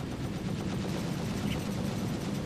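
Ships trading weapons fire in a Star Citizen space bounty fight, three attackers on one target; a dense, continuous rattle of rapid gunfire over a low rumbling bed, steady and fairly close for its whole length.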